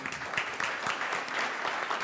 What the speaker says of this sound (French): j'applaudis tout le monde